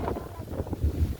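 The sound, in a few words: breeze blowing outdoors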